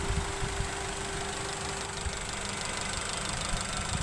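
A brand-new Maruti Suzuki Dzire Tour with a 1.2 litre petrol engine idles steadily, a low, even hum with a faint constant whine, no talk over it.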